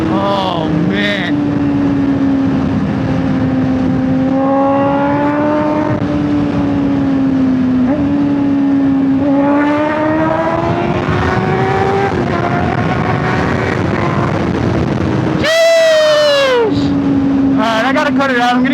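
A 2024 Honda CBR600RR pulls hard in third gear, its engine note climbing steadily in pitch through repeated rising sweeps, loud and close. A sharp rev burst comes near the end, with wind noise throughout.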